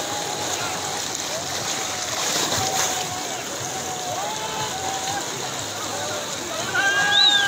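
Traditional wooden zakh boats pass on the Indus River during an old-style race from Shigar to Skardu, a rushing, splashing water wash that runs steady and moderately loud, with distant voices and whistles above it.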